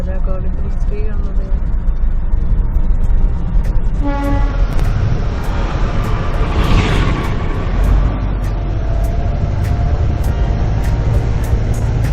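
The Darjeeling toy train rumbles past at night, a loud rolling clatter of wheels on track with bursts of high squealing and a short tonal horn toot, while people talk nearby.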